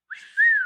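A person whistles a single rising, sustained tone that swells louder midway, close and clear with no other sound around it.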